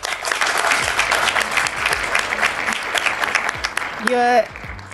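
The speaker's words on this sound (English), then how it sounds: "let's give him a round of applause, guys." Studio audience on a talk show clapping in a dense, steady burst, with a short electronic tone or voice-like sweep near the end.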